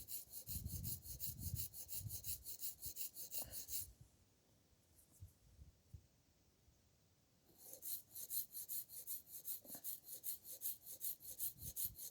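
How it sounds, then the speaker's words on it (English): A small chisel is flattened on a sharpening stone with rapid back-and-forth rasping strokes, close and steady. The strokes pause for a few seconds of quiet, then resume at the same rhythm. "now I'm just going to put it on a stone,"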